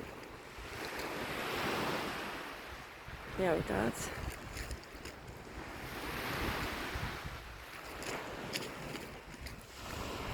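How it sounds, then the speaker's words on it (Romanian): Gentle sea waves wash onto a Mediterranean beach under calm, slightly cloudy skies, a soft continuous surge rising and falling with some wind buffeting the microphone, while a voice speaks briefly in the middle. "O să întorc să vă arăt marea. Cerul e un pic cu nor, dar marea e foarte frumoasă."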